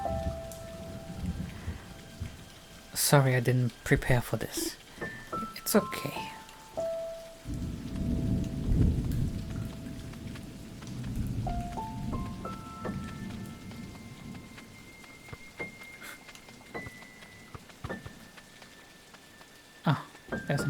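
Steady rain with rumbling thunder in the video game A Walk with Yiayia, layered under tonal music cues, with two people briefly talking near the start.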